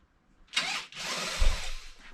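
Power tool quickly unscrewing a small 10mm bolt on a rally car subframe: two short close bursts of whirring, the second longer, with a brief pause between.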